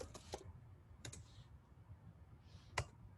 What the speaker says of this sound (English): let's type in extrude